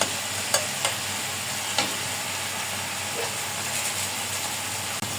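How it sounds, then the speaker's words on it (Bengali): Chili garlic paste frying and being stirred in hot oil, a steady soft sizzle with a few sharp scrape clicks from the spoon, close and even throughout, no voices. "এখন এটাকে ভালোভাবে কষাবো। কষাবো বলতে একটু ভাজা ভাজা করবো তেলে।"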